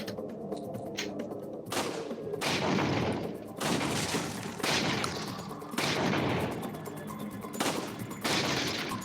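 Handgun shots from Resident Evil 4 VR ring out one by one at a slow, steady pace, each loud crack followed by a fading boom and echo.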